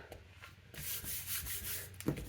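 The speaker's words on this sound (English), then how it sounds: "and then burnish it down" A tool rubs firmly along a score line on folded cardstock, giving a soft, close scraping sound in short repeated strokes, faint and unaccompanied by talk.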